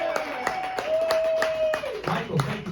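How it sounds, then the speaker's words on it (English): Audience applause for comedian Michael Kaufman at a live comedy show: a steady patter of many hands clapping, with a sustained tone and some voices running underneath. "everyone clap it up, make some noise for Michael Kaufman"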